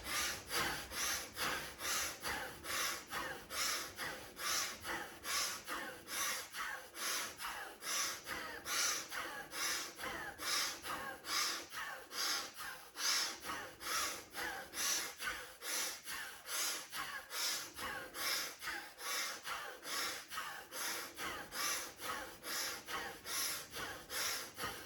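Rapid, forceful bellows breathing in the Bhastrika technique, a steady train of sharp, evenly spaced inhales and exhales repeating about twice per second for the whole stretch, close and loud with no talking.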